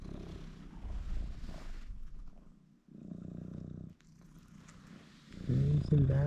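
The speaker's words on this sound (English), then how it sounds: "you're the loudest cat I've ever heard sleeping." A sleeping cat snores loudly and close by, in slow repeated rasping breaths with pauses between them. A person talks over parts of it.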